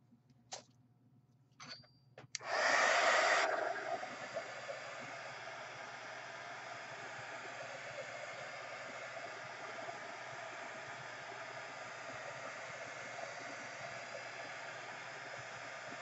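A hair dryer drying water drops on paper switches on after a few faint clicks with a brief loud gust, then settles into a steady, moderate whooshing blow that continues alone.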